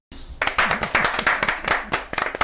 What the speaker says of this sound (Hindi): और जोरदार ताली